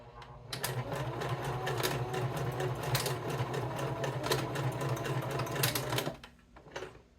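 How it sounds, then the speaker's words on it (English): Sewing machine stitching back and forth over the end of a rope coaster, a dense rapid mechanical whirr running for about six seconds before stopping, close and loud, with a short burst at the end. "all we're going to do is back stitch and front stitch 2 or 3 times to secure the end of our rope"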